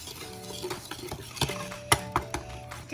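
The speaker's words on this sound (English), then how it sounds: "and then whisk it all together" A whisk stirs flour, sugar, salt and baking powder in a bowl for baked donuts, soft rhythmic scraping with a few sharp clinks of metal against the bowl, close and fairly quiet.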